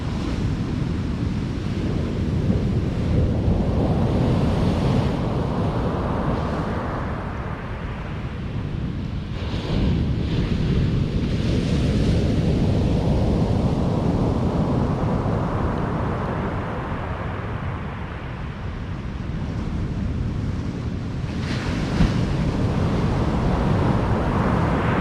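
High-tide sea waves at Withernsea beach roar steadily and close for the whole stretch, swelling and easing in long surges under heavy wind buffeting on the microphone, with no talk.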